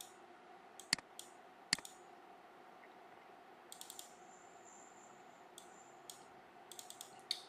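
A computer keyboard is typed on in short scattered bursts of quiet clicks and taps, with a few sharper strikes over a faint background hum, and no voices.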